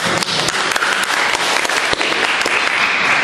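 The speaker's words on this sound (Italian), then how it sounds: "grazie per l'applauso" Loud, close audience applause after a lecture on the culture of inclusion, brisk overlapping claps with distinct sharp hits, steady throughout the short stretch.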